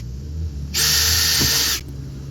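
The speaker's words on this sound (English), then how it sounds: "now I'm going to drill my pilot holes" A drill boring pilot holes in a truck with a 5/64 bit: a short, close, high-pitched whine lasting about a second, set against quiet background.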